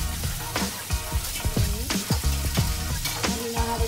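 Chicken pops and sizzles steadily in a hot frying pan on an electric stove, with sharp crackles and spits bursting every fraction of a second over a constant frying hiss, close and fairly loud.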